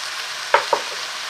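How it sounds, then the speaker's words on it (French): Vegetables from the garden stirred in a hot wok with fish sauce and sugar: a steady frying hiss throughout, broken by two quick scraping stirs close together near the middle. "On mélange."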